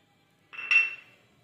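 A single bright clink of a utensil against a pot while green chili paste goes into cooking saag, a short ringing metallic tap that fades within half a second in a quiet room.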